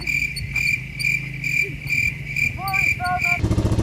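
A 1984 Suzuki LT185 ATV squeaks with a chirping, cricket-like squeal, repeated in steady pulses over its idling engine, close and fairly loud, ending in a rougher engine rattle.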